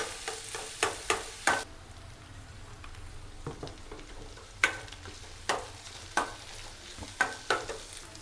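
Cowpeas frying in a pan under a soft, low sizzle, broken by sharp clacking scrapes of stirring that come in short bursts: a quick run early on, then scattered strokes spaced through the rest.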